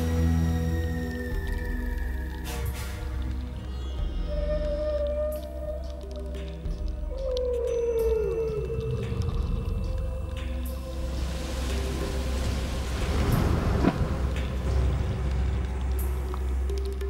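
Whale calls heard from the ocean in the Indian Ocean, long wavering moans and higher drawn-out tones rising and falling, moderately distant, over a steady rumble of water and boat noise.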